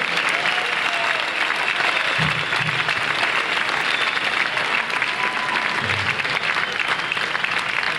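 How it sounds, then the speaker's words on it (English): A large crowd at a sports officials' induction banquet applauds steadily and loudly throughout, a dense continuous roar of clapping with no pauses. "How about a big round of applause for all these people?"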